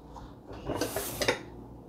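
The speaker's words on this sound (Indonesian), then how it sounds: "Ini piring tuh bukan sembarang piring ya." Ceramic plates from Germany clink and scrape as they are stacked and put away in a household cupboard, a short cluster of close, light knocks with no voices.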